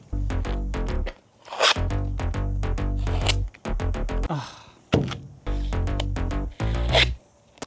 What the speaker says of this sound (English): So let's get this masking taped up.